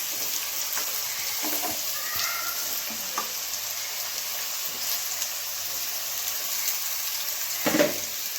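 Potatoes fry in a pan with a steady, close sizzle and bubbling crackle, broken by occasional stirring scrapes and a louder clatter near the end.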